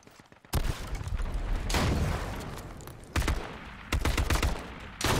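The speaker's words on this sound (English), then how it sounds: "He tanked two bullets after that grenade blew up on his face." Gunfire and a grenade blast in a battle royale video game: a sudden loud burst of shots, then several sharp bursts and booms in quick succession, close and dense, with no talk.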